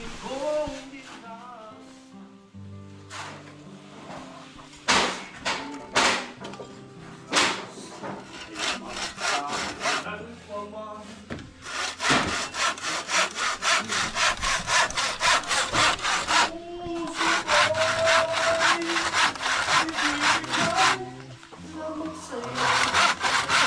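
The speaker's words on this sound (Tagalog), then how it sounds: "Lagariin na." A handsaw cuts through wood while a room is being built in a house, with steady, close back-and-forth strokes that speed up and keep going under other background sound.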